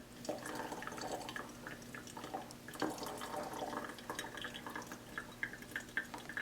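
Water trickles from a gooseneck kettle onto ground coffee in a Chemex brewer, a quiet, steady pour with soft dripping and splashing, close and alone.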